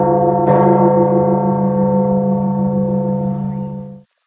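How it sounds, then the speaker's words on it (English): A single bell of the Metropolitan Cathedral in Mexico City is struck once, loud and close, its rich ringing tone sustaining for several seconds before cutting off abruptly. "with the bell ringing from the Metropolitan Cathedral in Mexico City"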